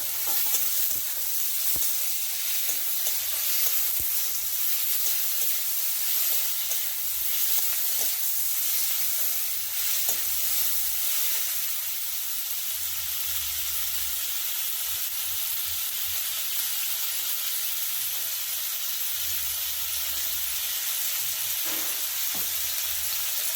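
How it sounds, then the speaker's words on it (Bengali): Ginger, green chili and tomato frying together in a pan, a steady loud sizzle and hiss with low scraping stirs of a spatula throughout, up close with no talking. "আমি ভেজে নিয়ে এবার এটা দিয়ে দিচ্ছি আদা, কাঁচা লঙ্কা, টমেটোটা একসাথে দিয়ে দিই"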